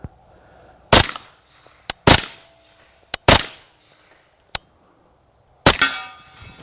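A Kriss Vector semi-blowback submachine gun fires short two-round bursts outdoors: loud, sharp cracks, some in quick pairs, each trailing a brief ringing decay, with quiet gaps between bursts.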